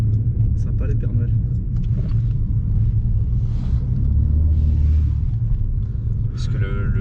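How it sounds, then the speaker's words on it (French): Steady low rumble of a Mercedes C63 AMG bi-turbo cruising in sixth gear at around 50–55 km/h, heard from inside the cabin as a constant engine and road drone with someone talking over it. "je suis en 6ème à 50-55, la voiture ne bronche pas"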